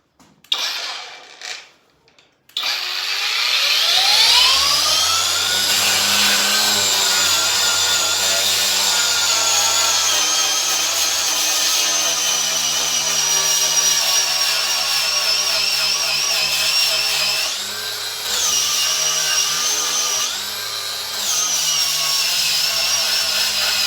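Cordless angle grinder with a new disc stripping layers of old paint spins up with a rising whine, then runs steadily loud and close with a harsh grinding roar, dipping briefly twice under load.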